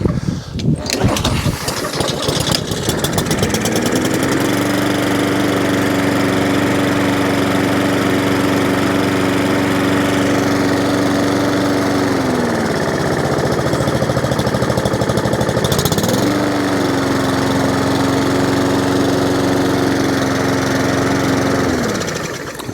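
An old junk walk-behind lawn mower engine cranks, catches and fires up, then runs loud and steady with a droning hum that dips briefly and picks back up.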